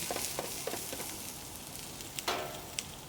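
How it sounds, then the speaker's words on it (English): Close, steady sizzling of onions frying in hot oil for Thai coconut chicken curry, a crackling hiss with occasional pops and stirring sounds, no talking. "Onion sizzling."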